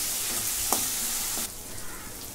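Sautéing in a pan for a home-style aubergine curry (vangi rassa) with garlic and coriander: a steady close hiss of frying with a brief scrape of stirring midway, then the sizzle drops to a softer level.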